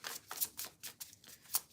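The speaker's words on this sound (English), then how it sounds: "I'm going to keep shuffling." Tarot cards riffled and shuffled by hand in a quick series of soft, crisp bursts, close and fairly quiet, with no talking.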